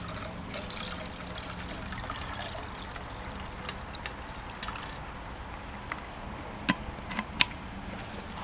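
Water pours steadily into a Swedish mess kit pot, about four cups, with a continuous trickling stream and a few sharper splashes near the end.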